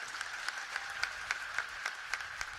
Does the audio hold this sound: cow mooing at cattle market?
no